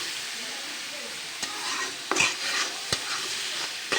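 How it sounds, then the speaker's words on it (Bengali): Leafy greens frying in a hot spice tempering in a pan, with a continuous close sizzle and several sharp utensil clacks and stirring scrapes in the second half. "আমার ফোড়নটা লাল হয়ে গেছে, এখন আমি শাকটা এর ভিতরে ঢেলে দেব"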